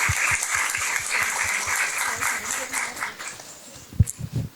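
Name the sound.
audience applause for Gabriela Riveros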